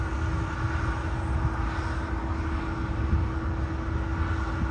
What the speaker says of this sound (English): Watching Emirates A380 that's going to go to Christchurch.